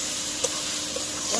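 Food is stirred and sautéed in a pan, giving a steady close sizzle with a few soft scraping stirs over about a second and a half.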